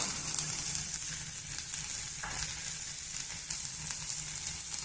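Cauliflower frying in a pan with chili powder, garam masala and coriander powder, a steady close sizzle with occasional soft stirring scrapes, no voices.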